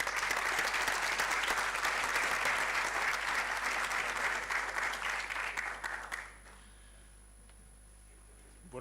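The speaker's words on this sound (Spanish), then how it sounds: "Así que le damos un gran aplauso al doctor Marrugat." Loud, sustained applause from an audience greeting a doctor at a medical lecture fills the room, then cuts off sharply, leaving near silence with a faint hum.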